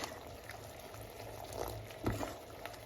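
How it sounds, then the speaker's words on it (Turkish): Quiet bubbling of baklava sugar syrup simmering in a pot, a soft steady seethe with occasional small pops and gurgles. "Şerbetimiz kaynıyor."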